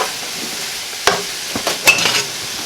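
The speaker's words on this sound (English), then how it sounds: "we're just going to stir everything around" Chicken and cauliflower rice being stirred in a big pan for a keto fajita casserole, giving a few short scraping and clacking strokes over a faint steady background, close and fairly quiet.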